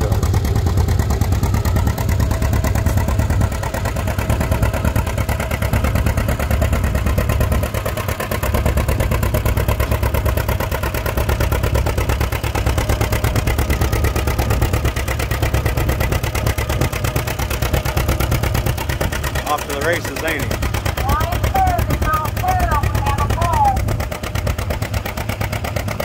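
Antique John Deere 'Johnny Popper' two-cylinder tractor engine running steadily at a tractor pull, a continuous mid-range engine drone with clattering texture and crowd noise around it, with brief higher chirps near the end.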